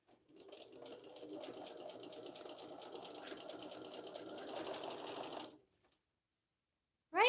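Domestic sewing machine running a test stitch for about five seconds, a steady close mechanical whirr with fine rapid rattle, then stopping to near silence before a brief sharp sound at the end.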